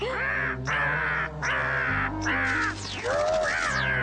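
Crow cawing in an animated cartoon, four loud close harsh caws in a steady rhythm followed by a swooping squawk.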